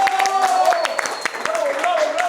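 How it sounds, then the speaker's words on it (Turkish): A crowd clapping in a continuous round of applause under a voice, a tonal line running through it, moderately loud and close for a couple of seconds. "Ayberk abinin tek kişilik gösterisini izlemek için kocaman bir alkış"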